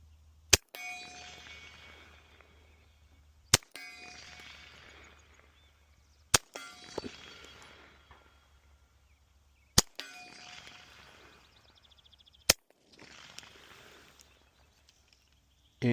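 Five suppressed gunshots from a rifle fitted with a JK Armament 105 CCX suppressor, fired outdoors in the open, each a sharp crack spaced about three seconds apart over a low steady hum.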